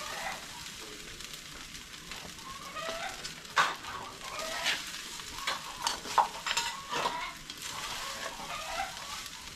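Sinangag, Filipino garlic fried rice, hisses and crackles in a hot pan while a spatula scrapes and stirs it in repeated strokes, close and fairly loud throughout.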